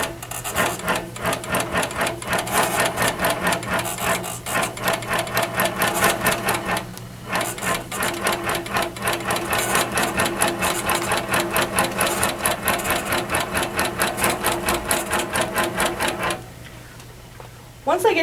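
An Innova longarm quilting machine stitches a quilt with a rapid, even mechanical chatter that runs almost continuously, with a brief pause early on, under a voice talking, then stops near the end.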